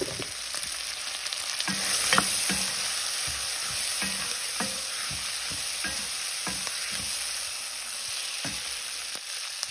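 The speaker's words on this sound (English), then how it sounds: "So the conch is cooking down in the oil." Conch fries in oil with onion, scotch bonnet pepper, garlic and curry powder, a steady close sizzle under repeated scraping stirs of a utensil against the pot.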